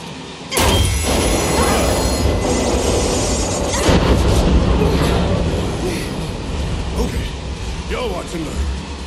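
A train rolls along with a steady low rumble and mechanical clatter in Final Fantasy VII Remake, loud and continuous under people talking, with a sharp crash-like burst near the start.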